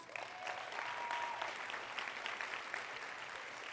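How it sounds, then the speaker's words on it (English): An audience at a women in leadership event gives itself a round of applause, a fairly faint, steady patter of many hands clapping in a room with no talking over it. "Can you give yourselves a round of applause?"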